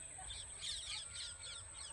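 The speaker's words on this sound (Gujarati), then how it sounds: "જો ચકલા જઈ રહ્યા છે" Faint, busy chirping of small birds, quick tweets repeating over a soft low background hum.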